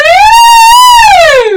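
A single loud vocal siren during a singing lesson, a voice sliding up into a high whoop, holding, then gliding down, imitating an emergency siren.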